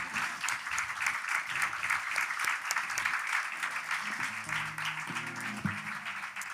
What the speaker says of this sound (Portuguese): Queria pedir uma salva de palmas para todos os artistas que estão neste álbum